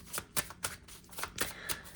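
Tarot cards being shuffled by hand up close, a series of quick papery riffles and slaps in an irregular rhythm of about eight bursts, fairly quiet with no talking.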